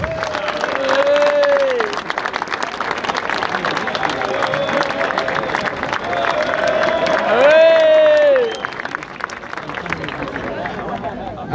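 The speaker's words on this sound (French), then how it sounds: "Un tonnerre d'applaudissements s'il vous plaît pour Noah Cervantes" A crowd on a town hall square in Martigues applauds and cheers at a celebration of the local football club's promotion, steady clapping and voices under an amplified announcer talking over it.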